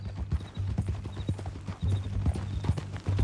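Horse hooves clip-clop on a hard surface in a western video game, a steady close rhythm of distinct hoofbeats with no one talking over them.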